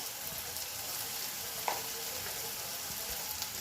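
Ground cumin, coriander and turmeric sizzle steadily in hot oil in a pan for a Bengali kochur loti and shrimp curry, a continuous bright frying hiss with a brief clink midway.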